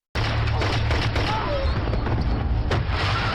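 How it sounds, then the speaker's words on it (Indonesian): Rapid gunfire rings out in an action film, a dense loud burst of shots and blasts starting abruptly and continuing without pause for about three seconds. "Richard tahu kedatangan Lukas karena mendengar suara tembakan."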